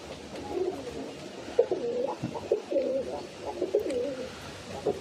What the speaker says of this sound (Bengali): দেখেন কত সুন্দর কবুতরগুলো,